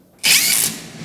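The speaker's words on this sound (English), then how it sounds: "I got new drills to play with." A new power drill test-run in a workshop: a loud, abrupt whirring burst about half a second long that quickly winds down, with no talking.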